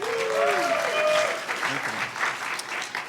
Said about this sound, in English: round of applause for just being ready like that